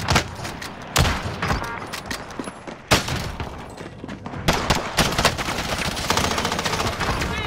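Loud, dense bursts of automatic gunfire rattle through a video game shootout, with rapid fire and heavier blasts overlapping almost continuously.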